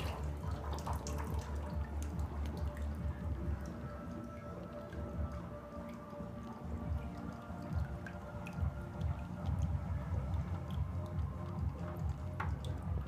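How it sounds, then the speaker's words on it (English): Bathwater draining from a tub makes a steady, close gurgling and trickling wash with small drips and splashes, constant throughout with no talking. "Hold on, I'm gonna try draining it."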